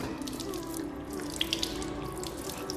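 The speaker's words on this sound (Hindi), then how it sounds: "अच्छी तरीक़े से हाथ धोएं" Hands are washed under a running tap for ablution (wudu). Water pours steadily into a sink, and a few light splashes and drips sound close by.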